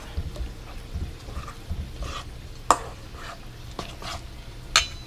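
Garbanzo bean flour bread batter being folded by hand in a bowl, soft scraping and sloshing strokes with a few sharper utensil clicks, close and quiet, no talking.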